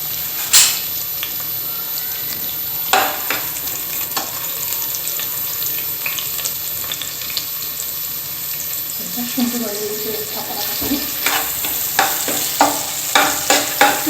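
Onion and papad crackle and sizzle in oil in a frying pan, close and steady, broken by sharp clinks and scrapes of a spoon stirring.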